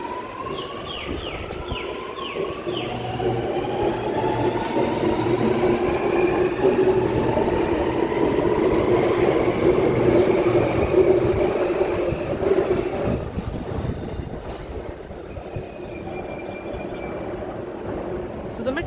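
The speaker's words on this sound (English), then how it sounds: "we have a Telawong bound metro about to depart platform number 3" A Sydney Metro train pulls away from platform 3 at Chatswood station with a rising electric whine over a steady rumble, loud and close, then eases off as it leaves.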